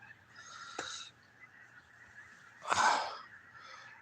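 Snow geese honk in the distance outdoors, two faint separated calls with a louder, harsher burst near the end, over a quiet background with no speech.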